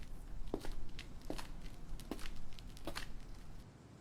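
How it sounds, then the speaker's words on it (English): Footsteps sound behind someone at night, four evenly paced steps at a walking rhythm, moderately near and fairly faint against a low background hiss. "Suddenly, you hear another set of footsteps behind you."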